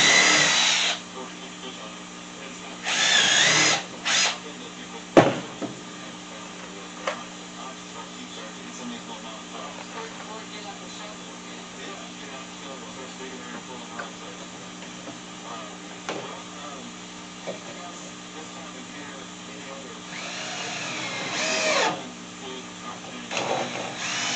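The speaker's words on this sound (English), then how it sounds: "Throw me a drill hole and throw me a screw in there." Power drill boring a hole and driving screws into wood while building a dog training platform, with short whirring bursts near the start and again near the end over a long stretch of background noise.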